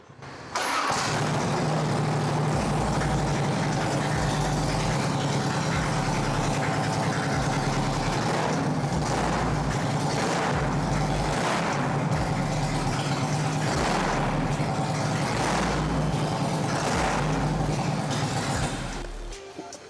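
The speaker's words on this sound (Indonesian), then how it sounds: "coba kita cek sound dulu, karena saya suka banget suaranya dari knalpot yang model seperti ini" A Harley-Davidson Road King Classic 2006 motorcycle engine runs steadily with a dry, crackling exhaust note, rumbling continuously with periodic throttle pulses throughout.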